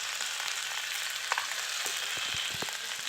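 Potatoes and drumstick stems fry with salt in a pan, a steady close sizzle under occasional spoon scrapes and taps as they are stirred, with more clatter near the end.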